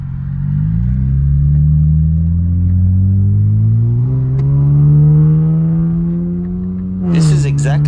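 A Nissan Z with upgraded turbos and a loud aftermarket exhaust gives a deep, sustained engine drone that climbs steadily in pitch as it accelerates, close and loud, then ends in a crackling burst.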